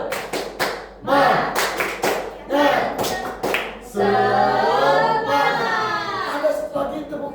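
A classroom of students performs a rhythmic patterned clap chant, sharp clustered claps in short bursts alternating with group voices chanting along, close and lively.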